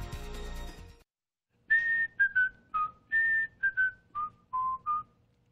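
A person whistles a clear, simple tune in short separate notes, close and alone, after a brief stretch of music that fades into silence.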